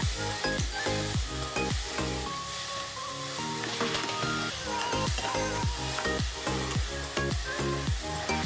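Chalta pickle with chilli and sugar being stirred in a pan, a loud, busy sizzle with quick rhythmic scrapes and knocks of the spoon throughout, near and continuous.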